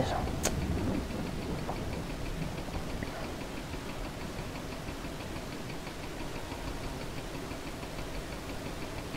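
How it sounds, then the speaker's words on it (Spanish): Steady rain falls throughout in Farming Simulator 22 on the No Mans Land farm map, a constant even hiss with a few faint ticks and a low rumble underneath. "Venga, va, que deje de llover ya, leches"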